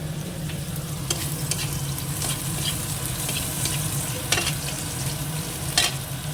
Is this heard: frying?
yes